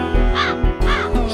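Crows give loud, close caws, three harsh calls in a row with short gaps between them and no other sound beside them.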